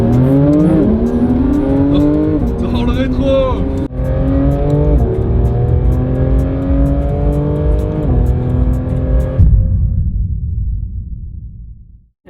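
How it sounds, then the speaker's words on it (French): A Porsche GT3 RS engine revs hard to high rpm, its loud, close tone climbing steadily through several gear changes before cutting off abruptly, with a brief spoken phrase over it. "Elle fait un bon bruit quand elle monte dans les tours."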